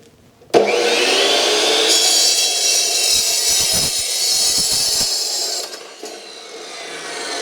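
Power tool cutting through a length of steel tubing for a suspension link, a loud continuous grinding whine that runs steadily for about five seconds, then tapers off and picks back up.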